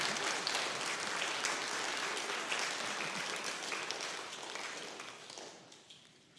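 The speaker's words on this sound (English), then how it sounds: "let's give them a big round of applause" School awards ceremony audience applauding a group of award-winning students, a sustained round of clapping at moderate distance that slowly fades out toward the end.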